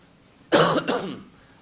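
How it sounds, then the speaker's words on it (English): A single short, sharp cough close to the microphone, followed by a brief throaty tail, in an otherwise quiet room. "My apologies for the cough."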